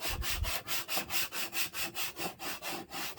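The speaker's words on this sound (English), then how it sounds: "I'm going to use my handy dandy Cricut scraper here, and I am just going to scrape all the way along" A plastic Cricut scraper pushed repeatedly along a large Oracle 651 vinyl decal on a wall, giving a steady series of about thirteen rhythmic scraping strokes, close and clear with no talk.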